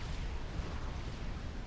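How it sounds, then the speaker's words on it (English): An ACU explodes in Supreme Commander: Forged Alliance as a dense, low rumbling blast. It holds as a sustained roar with no distinct separate hits. "goes up in flames in a brilliant explosion"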